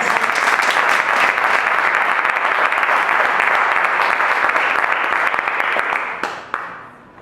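A congregation at a church sermon applauding, dense sustained clapping that carries loudly for several seconds, then thins out and fades near the end with a few last claps.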